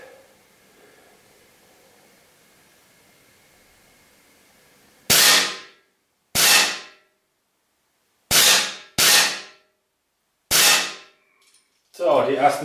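Five sharp, loud shots from a Steyr LP50RF air pistol fired one at a time with uneven gaps between them, each a crisp crack followed by a quick decay, after a stretch of quiet room hum.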